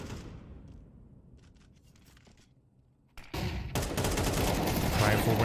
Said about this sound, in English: Rifle round and bang.